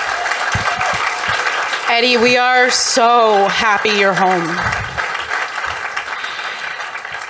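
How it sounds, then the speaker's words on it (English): Applause from an event audience for Eddie and his team fills the scene, a steady wash of clapping under and around a loud, emotional voice in the middle. "Let's just have another round of applause for Eddie and his entire team."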